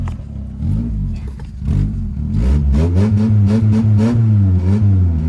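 A 1989 Grand Marquis engine runs rough on old fuel, loud and close, its revs surging and sagging unevenly as it struggles to hold an idle, with no voices.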